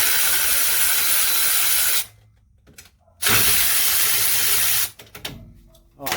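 A small impact wrench works the lower shock bolts on a Jeep CJ-7, two loud sustained bursts of buzzing hammering separated by a pause, with a short third burst at the end.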